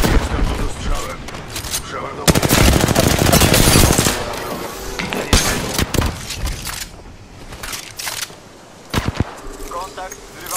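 Rapid bursts of automatic gunfire from an Apex Legends Season 14 firefight, loud and dense, with overlapping volleys and sharp single shots around intermittent game voice callouts.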